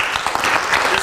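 A room of people clapping at a city council meeting, a dense steady burst of applause at close range filling the whole moment.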